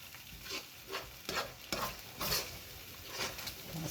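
Veg manchurian sauces cooking in a pan, stirred with soft repeated scraping strokes over a steady low sizzle, close and moderately quiet with no talking.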